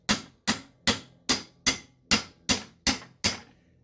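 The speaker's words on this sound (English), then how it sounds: "Then I just put my crescent wrench on there and give it a couple of hammer blows." A hammer strikes a crescent wrench nine times at an even, steady pace in a workshop during a Porsche shifter rebuild. Each blow is a bright metallic clank that rings briefly and fades, fairly quiet and alone.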